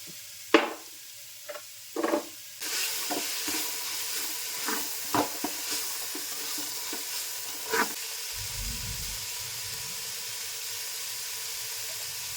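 Onions sautéing with a pinch of salt in a pan: a steady close sizzle and hiss with repeated clinks and scrapes of a spoon stirring, louder bursts early on, then a softer continuous frying hiss.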